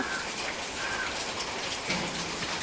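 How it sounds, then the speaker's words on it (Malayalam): Continuous rain pours down in an even, enveloping hiss, with faint scattered drips and no voices. "ഇതേ രാവിലെ തുടങ്ങിയ മഴയാണ് ഇതുവരെ ഒരു നിർത്തുമില്ല"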